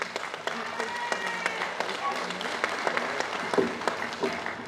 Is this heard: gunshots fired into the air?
no